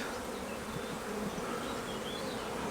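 Honeybees buzz steadily over a brood frame lifted from a hive during a nucleus inspection, a dense, continuous hum of many insects close by with no talking.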